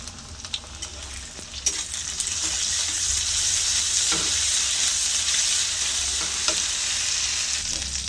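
Onion with ginger garlic paste frying and being stirred in a pan: a steady, close sizzle that swells after the first couple of seconds, with soft scraping strokes running through it.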